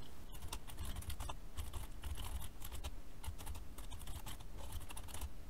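Code is typed on a computer keyboard in steady, rapid bursts of close key clicks with brief pauses, heard alone.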